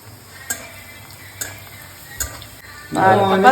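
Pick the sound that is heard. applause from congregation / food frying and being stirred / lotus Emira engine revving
food frying and being stirred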